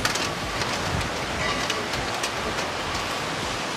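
Rain falling steadily around a resort pool in Jamaica, a dense continuous hiss close by, with no talk.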